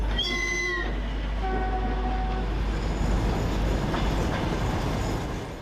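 A train rumbles past steadily with low continuous rolling noise, high squealing tones from the wheels or brakes briefly ringing out early on.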